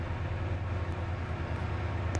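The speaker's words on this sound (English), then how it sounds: "The train now approaching Platform 4 terminates here." A train rolls toward a station platform at rush hour, a steady low rumble running alone and continuously throughout.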